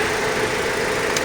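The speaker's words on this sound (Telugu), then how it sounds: "కానీ ఇంజన్ అయితే సైలెంట్ ఇంజన్ ఉంది." A petrol car engine idles in a steady, even rumble, close and continuous with no other sounds.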